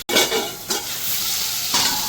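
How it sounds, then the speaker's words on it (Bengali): Shrimp frying in a pan for a Bengal-style shrimp curry, giving a steady bright sizzle with a stir at the start and another near the end, close and continuous with no talking. "তাই একটু চিংড়ি মাছটা একটু ভেজে নেবো ভালো করে 2 মিনিট।"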